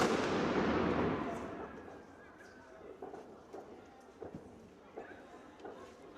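New Year's Eve fireworks in Denmark: one big close blast rumbles and fades, then scattered smaller pops and crackles sound farther off while people talk.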